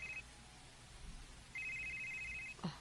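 A telephone rings with a short electronic ring, a pause, then a longer sustained ring, followed by a brief clunk; the ringing is moderately loud against a quiet room with no talk.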